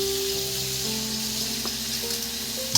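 Bitter gourd and potato with turmeric frying in a pan, a steady soft sizzle with a few stirring scrapes and a sharper clatter near the end.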